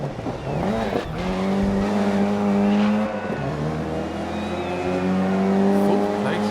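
Race car engine from the GRID 2019 video game, sustained harmonic drone rising and falling with gear shifts over about six seconds, steady and loud, with faint tire squeal near the end.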